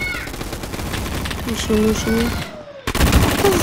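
Rapid bursts of gunfire crackle through a Roblox gunfight arena match, loud and close, overlapping with a player talking.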